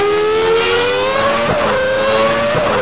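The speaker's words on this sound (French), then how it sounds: "Ah, sympa le bruit du moteur." A 1992 Formula One car in the racing game Stock Car Extreme, its high-revving engine whining loudly and climbing in pitch, broken by two quick gear-shift dips.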